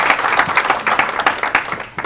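An audience at an academic lecture gives dense, steady applause for a welcomed guest, with many hands clapping close and loud and no talk over it.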